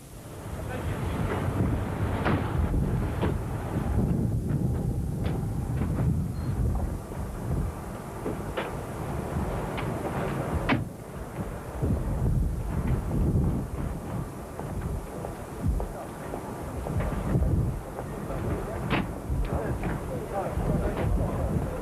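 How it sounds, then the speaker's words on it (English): Strong gusting wind from a sudden, severe storm off Valletta, Malta, buffets loudly and continuously with rumbling low roar and occasional sharp gust peaks throughout. "A sudden storm, the worst in the last half-century, hit the island."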